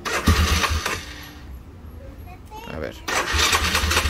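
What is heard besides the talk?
Yamaha Grizzly 660 ATV engine being started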